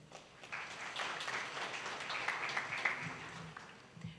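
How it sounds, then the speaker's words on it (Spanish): Soft, distant audience applause for a speaker at a national real estate, urban planning and environmental law congress, a faint wash of clapping that swells slightly in the middle before easing off. "El aplauso para ella."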